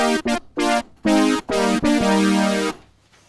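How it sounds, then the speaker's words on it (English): A Roland JX8P hardware synth delivers an 80s brass stab patch as a quick run of staccato chord hits ending in a held brassy chord that cuts off cleanly, loud and upfront, no voices. "And then my JX8P hardware synth."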